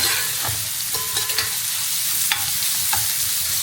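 Dried fish (karuvaadu) frying in an iron kadai, a constant close sizzle with occasional scraping stirs and small pops, loud and steady with no talking.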